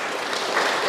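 Dense, steady clapping from a congregation fills the short moment, close and continuous without pause.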